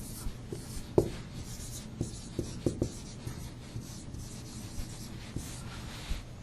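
Writing on a board while a Hebrew word is spelled out, heard as light scratchy strokes and small taps spread unevenly over several seconds, close but quiet against a soft room hush.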